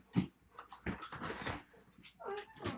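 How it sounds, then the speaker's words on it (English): A dog whimpers and yips to be let out, giving short whiny cries and soft vocal bursts close by, with a person's voice and light movement around it. "I was getting up to let my dog out."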